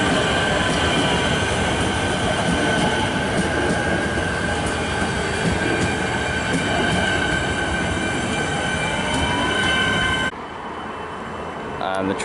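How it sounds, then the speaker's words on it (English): Melbourne suburban train pulling away from a station beside a level crossing, a loud continuous rumble of wheels and rail noise with a faint squeal, dropping off abruptly near the end as it passes. "The train I just filmed has departed."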